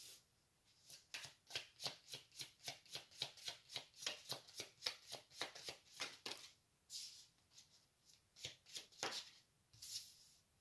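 Tarot cards are shuffled by hand in a quick, steady run of crisp riffling bursts, then a pause and a few more riffles, close and fairly quiet with no talking.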